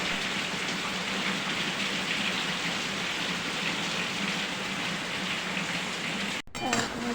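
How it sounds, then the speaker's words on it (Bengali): Steady, dense rain pours down continuously, a broad hiss with patter on surfaces, briefly interrupted near the end by a short clatter. "দেখো একটুখানি তোমরা সাউন্ডটা শুনে নাও বৃষ্টি।"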